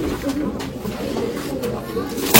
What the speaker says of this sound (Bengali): এটা আমার খুব প্রিয় পায়রা